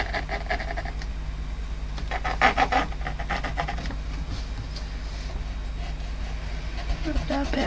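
An eraser rubbing out part of a pencil drawing of a fox and robin illustration, rapid scratchy strokes in short bursts, close, with a steady low hum underneath.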